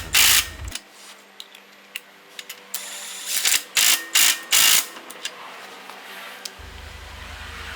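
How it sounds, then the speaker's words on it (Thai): OSUKA OSID830 cordless impact wrench loosening a nut: several short bursts of rattling hammering, the last few longer and louder, then the tool stops and near-silence follows. "จะเห็นได้ว่า น็อตนะครับ คลายออกมาแล้วก็ตัวเครื่องหยุดการทำงานนะครับ"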